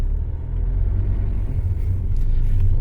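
A vehicle pulls away with a low, steady engine rumble, close and continuous for a few seconds, with no talking over it.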